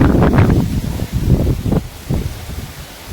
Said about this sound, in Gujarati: જોવામાં પવન કેવો ફૂલ.